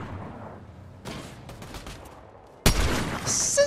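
Rapid bursts of video-game gunfire from a Fortnite build-less ranked match, a few sharp shots, then a louder close volley near the end.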